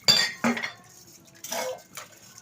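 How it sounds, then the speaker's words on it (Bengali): Dishes, pots and pans being washed in a home kitchen: scattered clinks and clatters of utensils and vessels with brief bursts of running water, close by and fairly quiet. "বাসনটা মাজা হয়ে গেছে"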